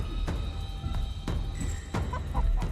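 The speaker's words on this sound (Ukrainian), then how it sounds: "Чуєш ти, дурковата курка?" Chicken clucking in short, choppy bursts over a steady electronic hum and faint tones, with no one talking.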